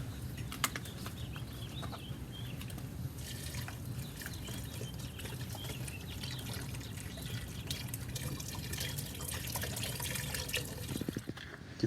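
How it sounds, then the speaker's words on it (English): Beef broth poured into a cooking pot holding chopped onions and a crusted blade roast, a steady liquid trickle and splash running continuously at moderate level with faint kitchen clatter. "Then I'll just add some beef broth."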